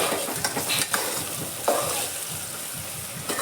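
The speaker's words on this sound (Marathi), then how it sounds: "कांदा किती मस्त आणि वास उठलाय असं मी टाकून भाजतो ना" Onions frying and being stirred in a pan for aloo dum biryani, a steady close sizzle with scraping stir strokes and small clatters, no talking.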